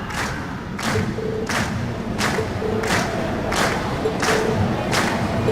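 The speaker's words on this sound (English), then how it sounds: "we've heard your cheers loud and clear" A video game crowd at a festival performance roars steadily while heavy rhythmic thumps repeat about every half second, like stomping in unison.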